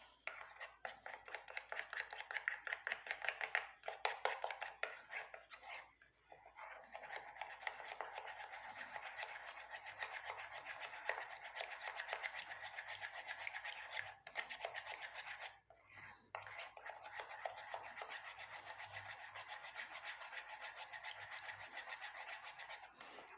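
Rice flour batter being mixed by hand in a bowl, a steady wet scraping and swishing that runs continuously at close range, with a brief pause midway and a soft voice speaking now and then.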